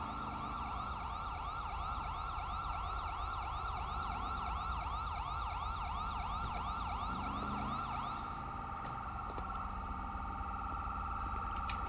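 A wailing ambulance siren in GTA V cycles continuously over a low engine rumble, loud and close, shifting to a different yelp pattern near the end, with no talk.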